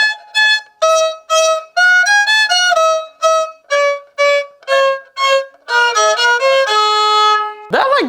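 A cheap one-star violin plays a bowed melody of short, separate notes, loud and close, and the tone turns slightly scratchy on a final quicker run before a low thump at the end.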